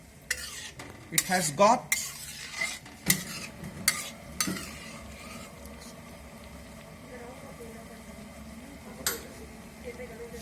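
Paneer cubes being gently stirred into a butter masala gravy, with a cluster of soft scraping and clinking strokes in the first few seconds, a faint sizzle underneath and a brief spoken remark over it.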